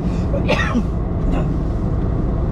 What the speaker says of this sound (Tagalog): Ako lang ang nakakaranas itong ganitong ubo